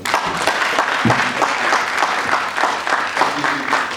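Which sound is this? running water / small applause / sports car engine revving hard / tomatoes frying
small applause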